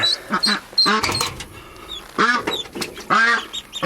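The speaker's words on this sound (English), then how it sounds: "Ducks." Ducks quacking close by in a backyard flock, several loud nasal calls in bursts with short pauses between them.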